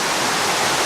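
Waterfall cascades tumbling down a hillside, a dense, steady broadband rush of falling water, loud and close with no other sounds.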